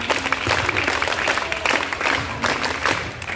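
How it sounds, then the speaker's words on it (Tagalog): Applause from a crowd of scouts at a backyard camping campfire, a thick, continuous patter of many hands held at an even level throughout. "Bigyan na maraming palakpak."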